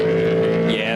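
A desert race car at the Finke Desert Race drives past with a loud, steady engine drone and a rising whine near the end, kicking up dust.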